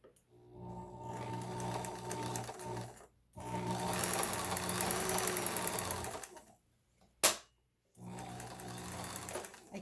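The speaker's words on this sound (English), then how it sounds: "Press the bar down." Kenmore 158.1603 sewing machine stitching in bursts of a few seconds, a close, fast, even mechanical whirring and ticking separated by short pauses, with a sharp click between runs.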